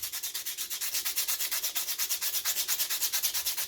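Hand sanding of pounamu jade on P80 grit paper to remove tool marks, a close, steady rhythmic rasp of quick back-and-forth strokes, about eight per second, with no talking.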